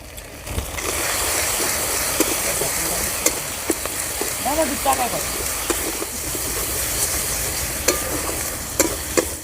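Spice paste with tomato, dried chilli paste, salt and turmeric frying in oil in a pan, a steady close sizzle with scattered scraping stirs of a spatula.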